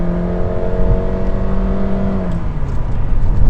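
A turbocharged Honda Civic Touring sedan engine revs from inside the cabin, a smooth rising whir that holds and then drops off as the throttle eases, heard alone and close.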